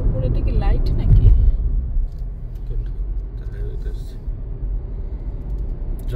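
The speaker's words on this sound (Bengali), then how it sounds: "Trans-Canada highway. এটা ট্রান্স-কানাডা হাইওয়ে।" A car drives along the Trans-Canada Highway near Coquitlam, with a steady low engine and tyre rumble heard from inside, a brief louder swell early on, and a voice in the background.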